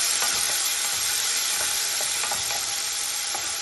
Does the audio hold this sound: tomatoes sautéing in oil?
yes